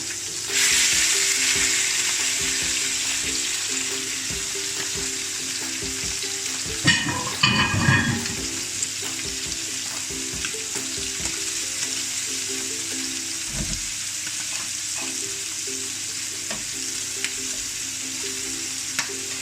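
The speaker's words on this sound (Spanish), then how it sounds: "Mientras estamos salteando, le incorporamos el sofrito." Sofrito sizzling in a pan while seafood paella ingredients are sautéed, a steady bright frying hiss with a burst of stirring and scraping midway, close and continuous.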